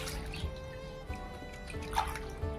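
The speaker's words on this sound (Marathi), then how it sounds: "सर्व बटाटे मी धुवून घेणार आहे" Potatoes are washed by hand in water, with soft sloshing and dripping and a few small splashes over a steady low background, close and fairly quiet.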